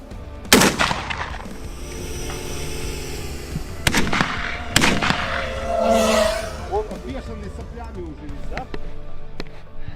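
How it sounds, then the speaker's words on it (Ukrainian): Several loud smoothbore shotgun blasts at irregular intervals outdoors, fired at FPV drones, with a buzzing drone motor audible between shots and some voices. "будемо працювати, відпрацьовувати стрільбу з гладкоствольної рушниці"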